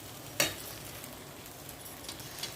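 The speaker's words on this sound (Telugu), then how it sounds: "ఇప్పుడు దానిలోకి తీ మ్యారినేట్ చేసి పెట్టుకున్న చికెన్ని వేస్తున్నాను" Marinated chicken fries in a pan and is stirred, giving a faint soft sizzle with one sharp clatter near the start and a few light scrapes afterward, with no voices.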